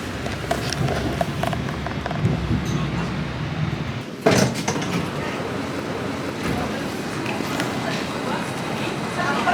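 Train pulling out of a station in Austria, a continuous low rumble with a sharp door-like clatter partway through and a steady rolling noise afterward.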